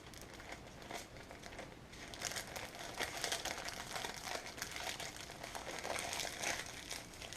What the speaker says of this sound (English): carefully put it on your waxed paper, and roll it up.